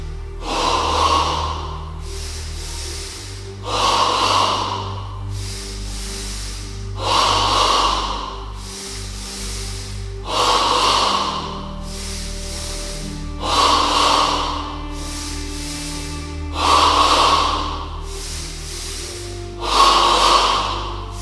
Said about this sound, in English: Now in stage 2 of double breathing, the breath moves from the abdomen to the chest.